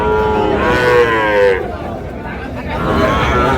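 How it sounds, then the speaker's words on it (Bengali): Sahiwal bull calves at a busy cattle market moo loudly and close by, with two long drawn-out calls over a steady background of crowd chatter and people talking. "শাহিওয়াল ষাঁড়।"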